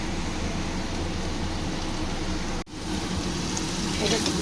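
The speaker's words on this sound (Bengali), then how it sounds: "আরও একটু ভেজে নেব, তারপর আমি পোস্তটা দেব।" Potatoes frying in oil in a pan for Bengali aloo posto give a continuous dense sizzle, like steady rain, with a brief dip partway through before the crackling resumes.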